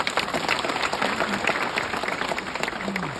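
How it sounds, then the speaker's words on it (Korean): Steady applause from a crowd at a county governor's inauguration ceremony, a dense wash of clapping sustained throughout with no voice over it. "군수님을 다시 큰 박수로 응원해 주시기 바랍니다."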